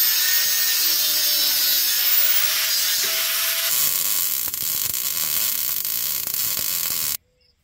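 Steady, loud cutting noise from a tool slicing off the stub of a steering wheel quick release hub on an off-road rig, running continuously for about seven seconds with a coarser grinding texture in the second half, then stopping abruptly.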